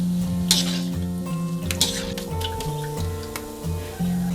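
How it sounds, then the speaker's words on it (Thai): Garlic frying in oil over medium heat in a pan for mushroom chili paste: steady soft sizzling with occasional stirring clinks and scrapes of a utensil, fairly quiet and close. "กระเทียมค่ะ เราทอดนะ"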